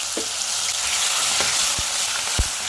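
Cumin, mustard seeds, curry leaves, green chilli and ground onion frying together in hot oil for a brinjal chutney, a loud continuous sizzle with a few sharp pops and crackles.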